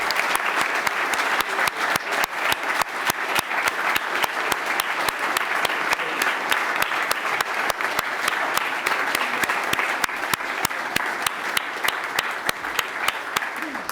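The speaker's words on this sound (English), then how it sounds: "So can we have a round of applause for all these good servant leaders?" A church congregation applauds a group of servant leaders at the close of a sermon, with dense sustained clapping from many hands, close and steady for about fourteen seconds.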